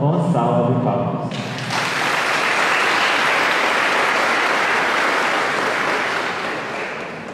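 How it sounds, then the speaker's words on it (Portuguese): Sustained round of applause from a church congregation at a São José feast Mass, loud and dense, swelling after a brief moment of voices and continuing steadily. "A todos eles e também a todos vocês, nossa gratidão com a salva de palmas."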